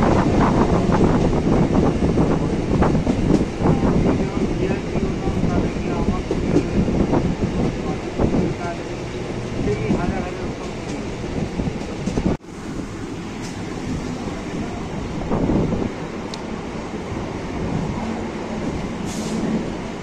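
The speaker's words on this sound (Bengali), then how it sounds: "তো বন্ধুরা আমাদের ট্রেন এখন ব্যারাকপুর থেকে ছেড়ে দিয়েছে।" A Sealdah–Ranaghat local train runs between Barrackpore and Shyamnagar, its wheels clattering and rumbling steadily with wind buffeting an open window, loud and close. A sharp jolt comes midway, then the running continues more smoothly.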